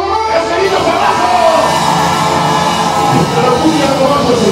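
A crowd at a live cumbia concert shouts and cheers in a thick, sustained roar that fills the whole moment at close range, with music and voices blending into one loud wall of sound.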